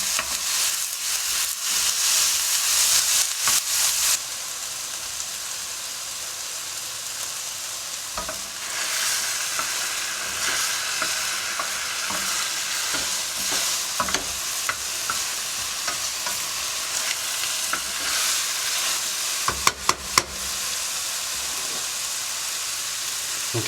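Bell peppers and tomatoes for a piperade fry and stir in a pan, a steady close sizzle running throughout with scattered scraping clicks from stirring and a brief louder stretch at the start.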